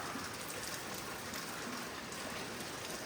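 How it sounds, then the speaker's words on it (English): Steady rain falling during monsoon season in Mammoth Lakes, a dense, even hiss of drops on surfaces that holds constant throughout with no voices. "and it's raining"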